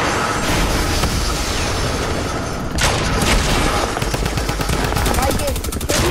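Rapid bursts of video game gunfire, dense and loud, run continuously through the clip with a heavier boom partway, over game ambience.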